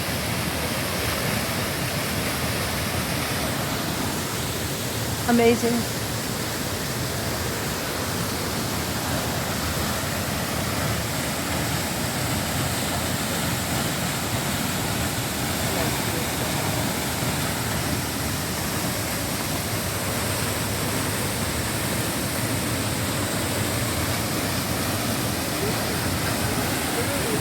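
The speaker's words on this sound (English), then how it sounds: "There's been so much rain here that the waterfall is running brown due to all the dirt that it's picking up along its coursing path." White Lily Waterfall runs strongly and brown after heavy rain, a loud, unbroken broadband rush that lasts throughout, with a brief spoken exclamation early on.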